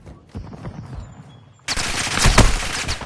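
Rapid machine gun fire in a Call of Duty MW2 multiplayer match bursts in loud and close after a quieter stretch of softer game sounds, continuing as a dense, sustained volley.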